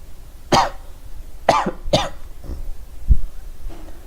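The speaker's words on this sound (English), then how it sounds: "I cough." Four sharp coughs, spaced unevenly, from one nearby person, followed by a short low throat sound; no talking.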